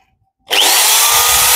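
An electric hammer drill with a 13 mm metal chuck suddenly starts after brief quiet and then runs at a steady, loud, close high-speed whir.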